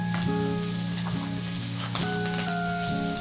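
Fresh scallion, dill and chive heat quickly in a hot pan, giving a steady close sizzle under background music.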